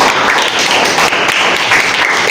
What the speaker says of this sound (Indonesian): Tepuk tangan untuk dua orang tadi